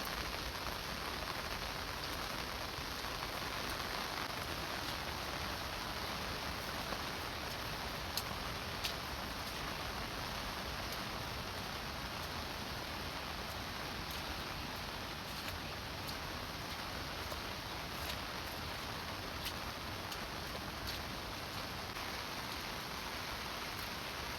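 Rain falls steadily for a long stretch, a constant even patter with occasional sharper drips and no voices.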